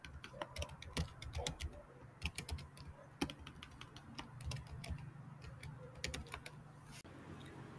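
Keys clatter on a computer keyboard as a Linux command is typed on a Fedora system: quick, irregular clicks, close and fairly quiet, with brief pauses between bursts and no talking.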